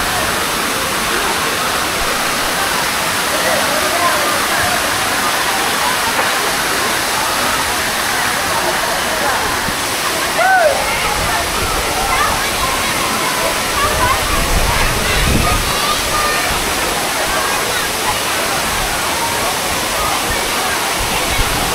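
Water park waterfall in Pondicherry pouring steadily, a loud, continuous broadband rush of falling water throughout, with faint voices and brief sounds of people in the background.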